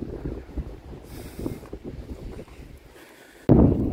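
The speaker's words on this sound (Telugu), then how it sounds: "గాలి అనేది మనిషిని ఇసురు పడేస్తుంది" Strong wind on a hilltop near Savitri Mata Temple, Pushkar, buffets the microphone in gusts, roaring and rumbling, with a sudden heavy blast near the end.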